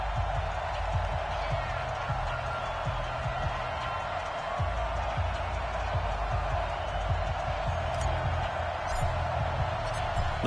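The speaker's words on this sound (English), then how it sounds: "This crowd is ready as their guys get set to match up between our visitors" Stadium crowd noise in an NFL football video game before a matchup against the Oakland Raiders: a steady, even roar of a distant cheering crowd with scattered thumps, under a commentator's voice.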